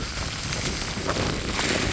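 Steady rain and rushing wind during a monsoon ride on two-stroke motorcycles up Bisle Ghat, a dense continuous wash of noise with no clear breaks.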